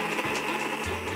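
A kitchen blender whirs steadily, grinding garlic, ginger, turmeric and salt with a little water, a continuous close motor drone with a slight shift in pitch partway through the short burst.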